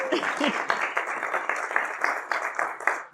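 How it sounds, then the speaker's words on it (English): An audience claps and applauds steadily for a few seconds, a dense patter of many hands with a few faint voices mixed in. "So give a big round of applause for Joan."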